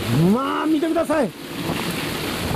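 Rain and waves at sea during a Pacific storm make a steady, dense roar of wind and water throughout, with someone speaking over it for the first half.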